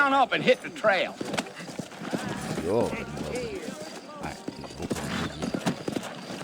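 Horse hooves clip-clop in the video game Red Dead Redemption, a steady run of hoofbeats mixed with game sounds under nearly continuous talking.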